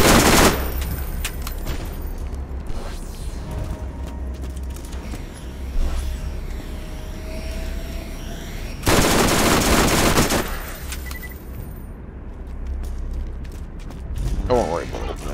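Submachine gun fire in Borderlands, heard as loud bursts of rapid shots that start and stop across the stretch, with mechanical clatter between them and a voice talking over parts of it.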